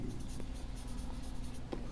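Pen scratching on paper while writing out the name of a coordination compound, a close, continuous soft scraping with small ticks between strokes.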